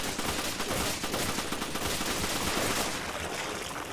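Resident Evil 5 gunfire: a dense, loud stream of rapid shots and impacts pours on steadily for several seconds in a chaotic fight.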